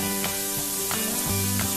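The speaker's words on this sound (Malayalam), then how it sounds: "ബീൻസ് 1 minute ഒന്ന് ഹൈ ഫ്ലെയിമിൽ തന്നെ ഒന്ന് ഇളക്കി കൊടുക്കണം" Beans are stir-fried on high flame, giving a loud, continuous sizzle and spray with a few brief scraping stirs throughout.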